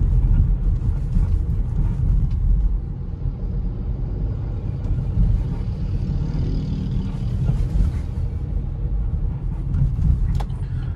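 A 2022/2023 Chevrolet Tracker Premier 1.2 turbo SUV with an unresolved fault gives off a steady, loud low rumble and drone throughout, with faint rattling higher up and no talking.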